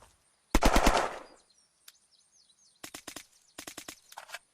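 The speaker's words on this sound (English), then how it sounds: "This is a MP7, not bad iron sights. It's got its own firing sound too" Short bursts of rapid automatic gunfire from an MP7 submachine gun in the video game Unturned, a loud opening volley followed after a pause by several quicker, lighter bursts in a row.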